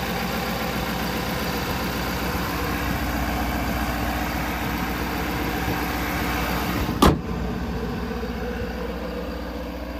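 A 2023 Ford F-250 XL with a 6.7 liter Powerstroke turbo diesel idles with the hood open, giving a steady, close low rumble. Near the end a sharp, loud thud sounds once, and the idle carries on afterward.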